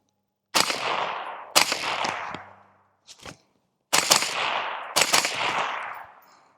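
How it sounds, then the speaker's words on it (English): A suppressed CMMG 5.56 rifle fires 55 grain full metal jacket rounds outdoors, loud sharp reports in an uneven string of several shots, each trailing off briefly. "All right, here we go, first rounds."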